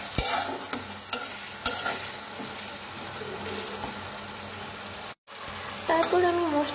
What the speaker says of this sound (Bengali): তারপর আমি মশলাটা ভালো মতো কষিয়ে নিচ্ছি।